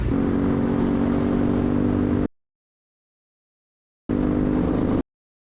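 A racing kart engine at high revs buzzes hard against its rev limiter in two loud bursts, a longer one and then a shorter one, separated by a gap of silence.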